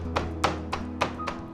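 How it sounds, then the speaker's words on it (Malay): Deboned chicken is pounded in a kitchen to tenderize it, giving about five dull, evenly spaced thuds over a low steady hum. "Ni ayam yang dah dibuang tulang ni. Apa yang kita akan lakukan? Kita tenderizekan dia. Kita ketuk dia."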